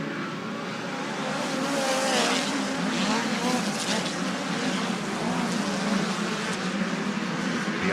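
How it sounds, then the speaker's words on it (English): USAC race cars roar around Ventura Raceway during the Turkey Night Grand Prix, a dense, continuous engine howl from the field through the turns, steady and loud throughout. "Field off through turns 1 and 2 and bolting down the back straightaway."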